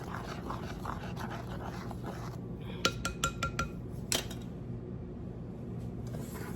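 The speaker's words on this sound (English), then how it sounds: "Just gonna give that a quick stir." A measuring spoon stirs cookie dough ingredients in a bowl, giving a short run of quick, close metallic clinks and taps against the dish over a steady low room hum, with a faint dog panting nearby.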